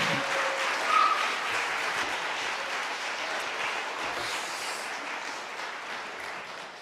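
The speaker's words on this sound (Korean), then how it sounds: "이호사나 목사님 나오실 때 우리 박수로 초청할까요?" A congregation at a Friday late-night church prayer meeting gives sustained applause to welcome a military chaplain pastor, a dense, even wash of many clapping hands lasting several seconds without talk.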